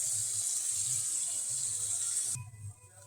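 Water poured from a tap or jug into a pan of fish curry on the stove, a steady close hissing gush that runs for a couple of seconds, then stops abruptly as faint kitchen clatter remains.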